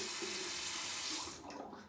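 Tap water runs steadily into a sink during a shave with an antique 1912 GEM razor, a continuous close rushing stream that thins out near the end, with no talking.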